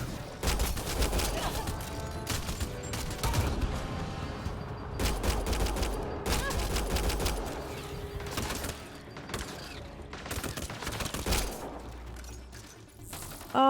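Rapid bursts of sci-fi gunfire in Mass Effect Andromeda, loud and close, with clustered volleys and automatic fire separated by brief lulls, plus mechanical clicks near the end.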